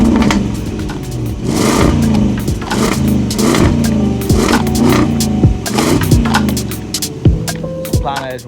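A supercharged 2022 Land Rover Defender V8 with over 500 bhp revs hard and close by. The loud, throaty engine rises and falls through repeated blips for several seconds.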